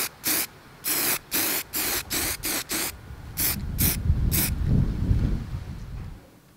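Spray can coating a piece of MDF board white, several short loud bursts of hissing spray in a quick rhythm, then a longer continuous spray mixed with low rumbling handling noise, close up.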